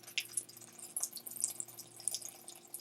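Wild Turkey bourbon poured from the bottle over peppers in a pot of chili, giving faint, irregular liquid splashes and drips in a quiet kitchen.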